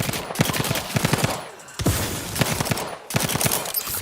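Rapid automatic gunfire in The Outer Worlds 2, loud bursts of rattling shots separated by short pauses, close and continuous across the firefight with no voices.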